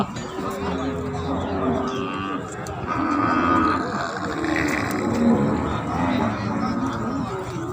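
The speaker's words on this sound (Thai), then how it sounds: "วัวผู้วัวผู้อ" Bulls at a busy outdoor cattle market in Warin Chamrap, Ubon Ratchathani, give long, deep moos and low bellows under steady crowd chatter and market noise.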